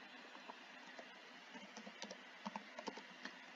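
Keys clatter on a computer keyboard as a command is typed, soft scattered taps building to a few firmer strokes near the end, close and alone.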